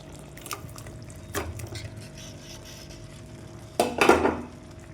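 Chicken pieces dropped into curry gravy in a pan for chicken masala, giving a few sharp clatters and wet splashes, the loudest burst near the end, over a quiet kitchen background.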